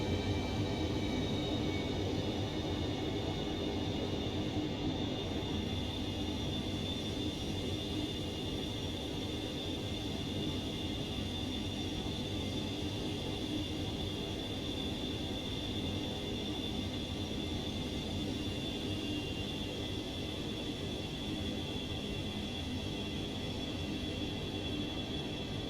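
A steady, unbroken jet engine drone from a FlyJSims Boeing 727-200 taxiing in the X-Plane 11 flight simulator, a constant broadband roar with a faint high whine and no talking.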